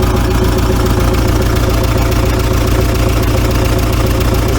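VW T3 TDi diesel engine idling with no exhaust fitted, a loud, harsh, rapid mechanical clatter with steady pulsing knock, close up and unbroken, no voices.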